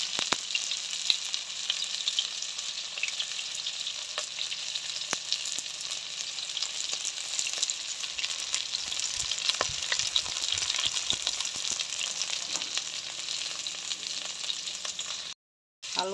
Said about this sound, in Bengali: ভালো করে আলুগুলা ভাইজা নিব।